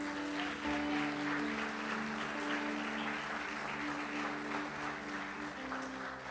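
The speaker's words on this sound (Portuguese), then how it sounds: "Quantos podem aplaudir o Senhor?" A church congregation applauds in a continuous wash of clapping under a sustained organ-like chord, steady and moderately loud throughout.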